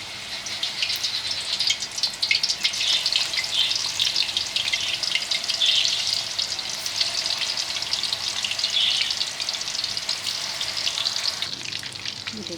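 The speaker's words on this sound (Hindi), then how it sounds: "अब हम इनको डीप फ्राई करेंगे।" Chandan kebabs deep-frying in plenty of oil in a kadai, a steady dense crackling sizzle that holds evenly throughout, close and fairly loud, with no talking.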